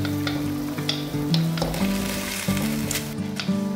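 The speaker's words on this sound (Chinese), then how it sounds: "来把粉条先下锅焯一下水" Vermicelli noodles blanch in a pot of hot water in a home kitchen, a steady bubbling hiss with occasional stirring splashes, close and moderate, under light background music.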